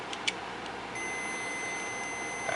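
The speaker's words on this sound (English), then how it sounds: "You can hear the buzzer." An ohmmeter's continuity buzzer sounds while testing the neutral safety switch of a 1965 Cadillac Coupe DeVille, a faint steady electronic tone that begins partway through and holds over quiet background.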